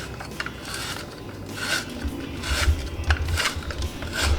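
A weird kitchen gadget grates food slowly and with heavy force, giving irregular raspy scraping strokes that swell and fade at moderate loudness with no talking.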